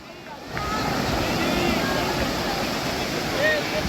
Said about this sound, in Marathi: मस्त असं फेसळणाऱ्या लाट येतात बघा ह्या किनाऱ्यावर समुद्र किनाऱ्यावर